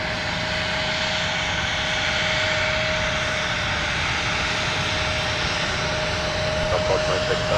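An American Airlines jet rolls for takeoff at a snowy MSP airport, a loud, steady broadband engine roar with a sustained whine through it, heard from outside with a voice speaking over it.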